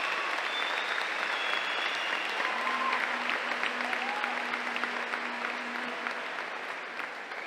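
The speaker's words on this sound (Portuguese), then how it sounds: "Um aplauso para todos os que nesta sexta-feira vieram até aqui." Students, athletes and teachers at a national school cross-country opening ceremony applaud outdoors, a broad, sustained crowd clapping with a faint tonal hum running beneath it.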